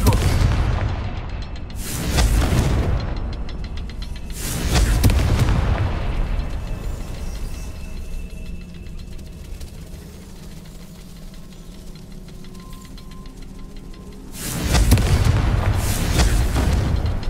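Confringo blasting-spell explosions in Hogwarts Legacy, loud deep booms at the start, a low rumbling stretch between them, and another heavy blast near the end.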